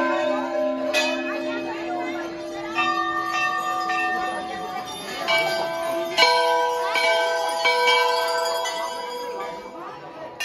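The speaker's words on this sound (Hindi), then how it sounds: "इतनी घंटी है भाई।" Many temple bells ring at Golu Devta temple in Uttarakhand, producing a dense, overlapping clang of metallic strikes and long ringing tones for about ten seconds, with voices murmuring faintly underneath.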